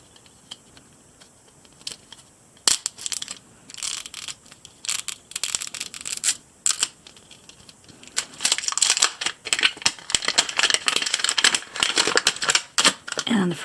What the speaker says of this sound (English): And the outside wrapper is pretty easy to get off.